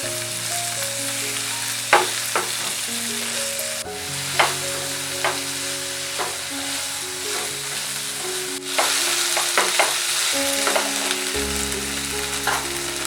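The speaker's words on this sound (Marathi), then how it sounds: "आता हे व्यवस्थित परतवून घेते।" Onion and capsicum sautéed with ginger-garlic-chilli paste for baby corn chilli, a steady close sizzle of frying under repeated scraping stirs, with no voices.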